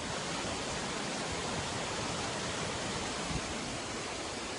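Steady, full-bodied rush of water flowing down over rocks toward the Tat Yueang waterfall in Thailand, a constant broadband roar with no breaks, close and even throughout.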